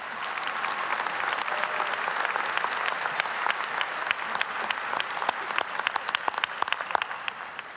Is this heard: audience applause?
yes